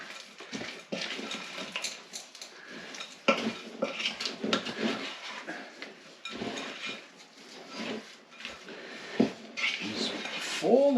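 Cookie-bar batter made from cake mix gets folded with a utensil in a bowl, giving repeated scraping and clinking strokes of spoon on dish at close range, steady and uneven in rhythm with no speech.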